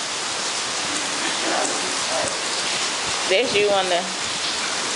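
Steady rain pours down outdoors in a thunderstorm, a dense even hiss throughout, with voices talking over it partway through.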